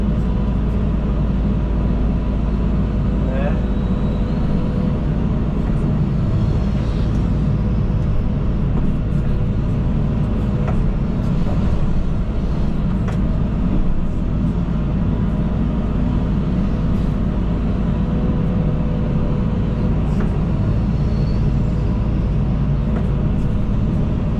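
A John Deere 130 hydraulic excavator works steadily while digging a ramp and loading a truck, its diesel engine a constant loud low rumble with occasional clanks and hydraulic whines over the top.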